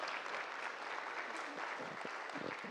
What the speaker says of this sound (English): And our vocalists, high school choir and others, let's give them a hand.